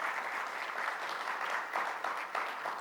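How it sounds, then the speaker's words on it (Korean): A Korean church congregation claps for a worship director during a church webinar, a steady wash of applause from a gathered crowd lasting a few seconds. "우리 박수 한번 하겠습니다"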